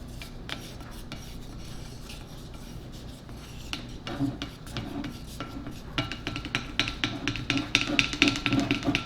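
Stain blocking primer being opened and stirred with a stir stick in its can, a series of close scraping, rubbing and knocking strokes that grow busier and louder toward the end, with no talk.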